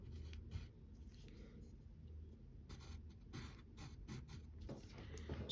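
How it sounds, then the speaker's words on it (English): A pencil sketches the cape lines of a drawing of DC's Robin on paper, soft, faint scratching strokes in uneven bursts across a quiet background. "Now we need to draw his cape."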